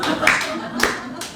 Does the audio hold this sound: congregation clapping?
yes